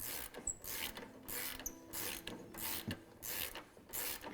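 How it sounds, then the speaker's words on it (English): An 18mm socket wrench ratchets repeatedly while tightening a lower shock bolt on a Jeep JK Wrangler during a FOX 2.0 IFP shock install, giving bursts of close, clicking ratchet strokes in a steady rhythm with no talk. "we're gonna grab our 18mm socket and wrench, get that tightened up"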